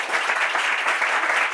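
A short burst of Bible quiz show audience clapping, steady and fairly loud, with no talking.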